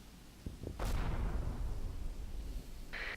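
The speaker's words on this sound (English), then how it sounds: "Mortars? I thought I heard a fire for effect." Mortar fire for effect in the World War II video game Combat Mission: a few sharp pops give way to a loud, rumbling blast whose low roar carries on and then fades, with a brief tonal beep near the end.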